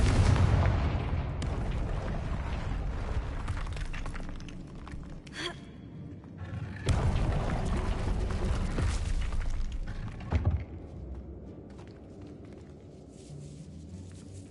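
Confringo explosion spell in the Hogwarts Legacy video game, with loud booming blasts and rumbling, a few sharp bursts standing out over a continuous roar of battle.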